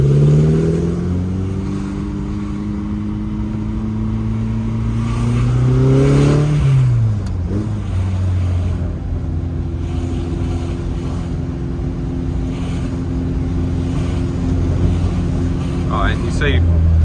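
A Lotus Elan restomod's engine drives at part throttle with steady harmonic droning, rising in pitch then settling lower after a shift, close and continuous, with passing road noise.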